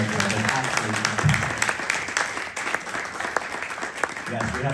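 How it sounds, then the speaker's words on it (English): Church hall audience applauding at a parish feast-day event, a dense, steady wash of many hands clapping close by throughout. "Another round of applause for Matthew."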